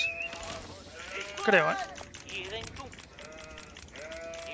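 Sheep bleat in a video game, several wavering calls including one loud, rising bleat in the middle, heard beneath someone talking and clicking game sounds.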